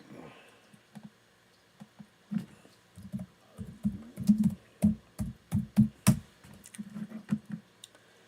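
Someone types on a computer keyboard while searching for drone footage, producing a quiet, irregular run of key clicks that quickens into a dense, steady patter, close by and alone.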